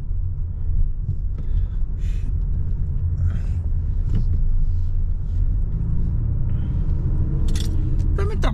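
Heavy truck traffic crowds a service road in Saudi Arabia, a steady low vehicle rumble heard from inside a car, with people chatting over it and brief clicks and rattles nearby.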